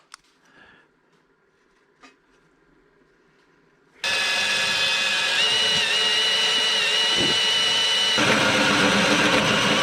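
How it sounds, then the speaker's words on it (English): After a few faint clicks and knocks, a power drill starts up loudly and runs steadily, whining as it pilot drills into metal for seat and steering rack mounts close by. "So that is where I pilot drill."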